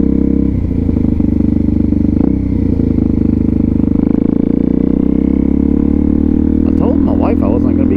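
A DRZ400SM motorcycle with an FCR39 carburetor idling outdoors in snow, a loud, steady, close single-cylinder thump with a rapid even pulse, while someone talks over it.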